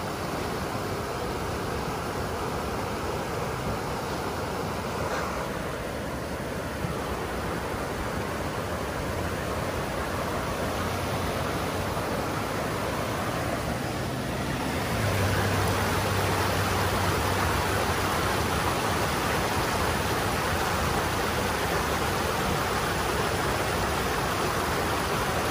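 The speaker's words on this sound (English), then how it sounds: "This is a huge amount of water coming through here." A large flow of water rushes into Big Bear Lake in California, a steady, dense roar heard up close, holding even throughout and swelling slightly louder partway through, with no voices.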